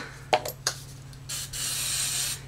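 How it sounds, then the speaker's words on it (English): Hairspray is misted onto the bangs in a few short hisses, then one longer steady spray, close to the mic and without talk. "So I'm gonna spray my bangs really quickly"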